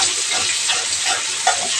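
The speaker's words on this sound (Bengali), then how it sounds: "গরম তেলের মধ্যে পেঁয়াজ দিয়ে দিলাম।" Onions frying in hot oil in a wok (kadai) for a radish curry: a steady, bright sizzle with faint stirring scrapes, close and continuous throughout.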